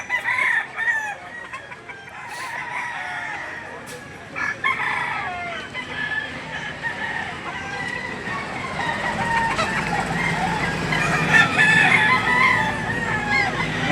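Chickens and roosters at a livestock auction market in Lipa, roosters crowing repeatedly over a dense, continuous background of clucking fowl and crowd noise, with a low rumble of traffic building toward the end.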